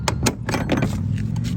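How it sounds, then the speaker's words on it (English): An all-aluminum 2022 Adam Julite trailer door with aluminum frame and skin swung and shut, a quick series of metallic rattles and knocks close by. "Shut this door as we go around."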